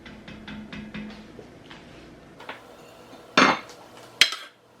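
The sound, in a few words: tomatoes transferred from Dutch oven into food processor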